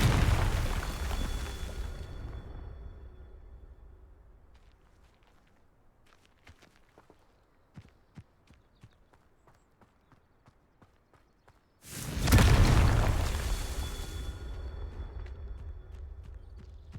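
Confringo fire spell in Hogwarts Legacy, with a loud explosive blast at the start that fades out and a second sudden fiery burst near the end, separated by quiet footsteps.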